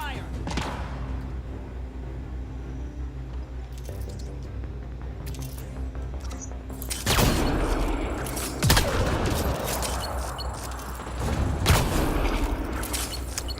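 Combat gunfire in the video game Mass Effect: Andromeda: a steady bed of game noise and low hum, then from about seven seconds loud bursts of shots and impacts break out, with sharp cracks standing out near nine and twelve seconds.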